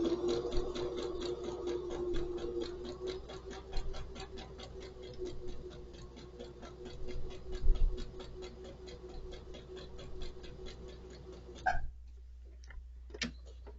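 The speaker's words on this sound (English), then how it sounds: "Then you're going to just carefully sew a 1/4 inch seam using your stiletto" Sewing machine stitching a quarter-inch curved seam on a Drunkard's Path quilt block, a steady, fast mechanical ticking that runs close and even for most of the clip, then stops, leaving a couple of faint clicks.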